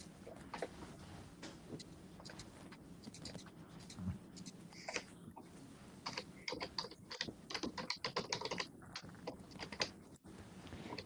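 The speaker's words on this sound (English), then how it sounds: "I'm trying to be really quiet when I press the keys." Steady computer keyboard typing during a live pre-Halloween stream, a dense run of soft, close key clicks with brief pauses, pressed gently to stay quiet, with no talking.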